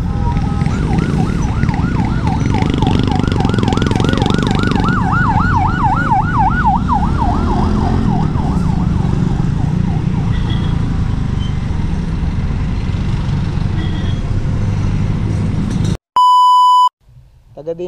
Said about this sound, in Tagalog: Sige, may ambulansya.